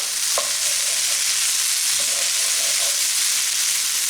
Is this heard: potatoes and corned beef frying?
yes